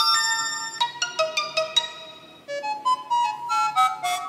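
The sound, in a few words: tablet notification ringtone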